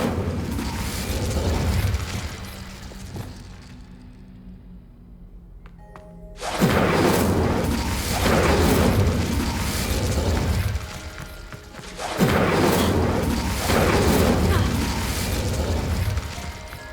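The Incendio fire spell in Hogwarts Legacy erupts in loud, roaring bursts of flame. Two sustained blasts are separated by a quieter lull, with a mechanical clatter underneath.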